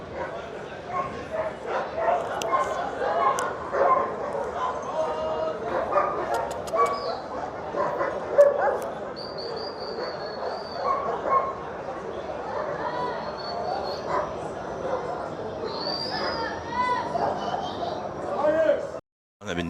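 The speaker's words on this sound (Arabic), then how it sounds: "طبعا زي ما انتم شايفين كده كلاب ايه بس متربطه كلها" Many tied-up dogs at a Friday dog market bark, yip and whimper continuously in a busy outdoor setting, with people chattering throughout and the barking mixed in and around the voices.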